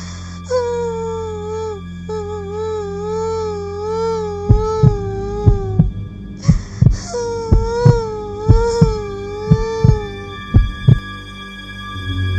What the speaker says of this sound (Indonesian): suara tangisan itu terdengar kembali tepat di belakang mereka